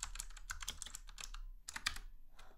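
Fast, faint clicking of keys on a computer keyboard, bursts of typing with a short pause, close by and alone.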